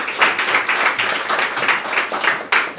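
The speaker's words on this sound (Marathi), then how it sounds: "आवाज टाळ्या थांबल्या नाही पाहिजे." Audience applause at a Teachers' Day celebration at My Tayaari institute, a steady wash of many hands clapping with rhythmic swells, fairly loud and close, with no talk over it.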